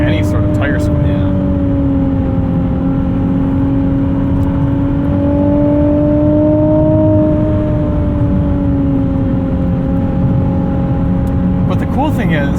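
A 2020 Nissan 370Z NISMO engine drones steadily from inside the cabin while driving, a loud sustained hum with slowly shifting pitch and road noise beneath it.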